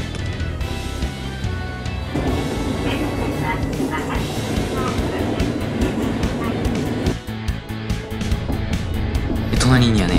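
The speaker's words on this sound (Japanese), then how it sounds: "多分電車は50キロから60キロぐらいで走ってたのかな" Local train running along the Senmō Line rails beside a road and the sea, a steady continuous rumble of wheels and carriage noise at moderate speed, loud and close throughout with faint talk mixed in.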